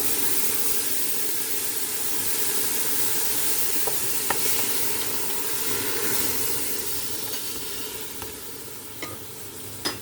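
A seafood medley sizzles hard in a hot pot of Filipino home cooking, a loud, steady hiss and crackle with occasional sharper pops and no talking.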